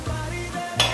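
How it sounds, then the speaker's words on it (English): A small spoon stirs cupcake batter in a bowl, a steady close scraping swirl that continues for about a second and ends in a brighter clink near the finish. "And just to mix it together so that it's like incorporated."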